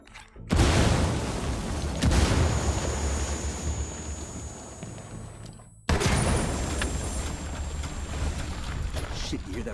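A grenade goes off in Ghost Recon Wildlands and is followed by heavy rumbling. A loud blast cuts in, then a sustained roar that breaks off and surges again, with a voice speaking over it.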